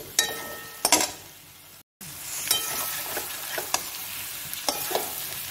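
Raw jackfruit pieces are added to frying spice masala and stirred, a steady close sizzle with repeated spatula scrapes and knocks against the pan, briefly cut off then resuming; no talking.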